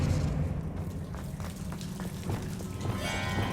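An Expelliarmus spell is cast in Hogwarts Legacy amid a continuous loud, rumbling blast texture, with scattered crackling transients and a brighter fizzing sweep rising near the end, alone without talk.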